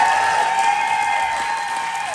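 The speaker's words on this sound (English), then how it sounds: "everybody, I want you to applaud for my boy Ian." A crowd applauds steadily and loudly at a people's choice award presentation for short course racing at Estreet MX Park, a dense, continuous wash of clapping throughout.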